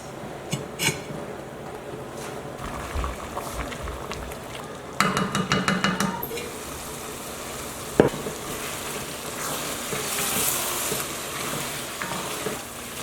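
Beef stew in tomato sauce being stirred in a pot over medium-high heat, with soft sizzling and a quick burst of rapid spoon scrapes and knocks against the pot midway, then one sharp clank.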